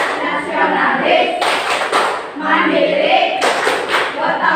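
Hands clap the rhythmic Tepuk PPK chant in a classroom lesson, sharp bursts of clapping in two clusters mixed with group voices chanting along.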